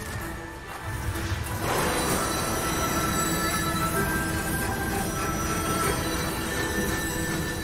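Train wheels squeal in the Bayonetta 3 video game, a sustained metallic screech with bright ringing tones over a loud rumbling rail roar that kicks in after a short lead-in and holds steady.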